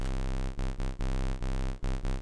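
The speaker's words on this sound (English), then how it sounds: "to create the growl bass sound" A heavy synthesizer growl bass pulses in short repeated bursts with brief gaps, loud and gritty, no voices.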